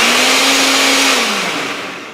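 A Nutribullet blender runs with a loud steady whir and a strong motor tone, then winds down and trails off toward a stop.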